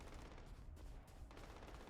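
Gunfire in the video game Starfield: rapid bursts of shots, faint and somewhat distant, with short gaps between volleys.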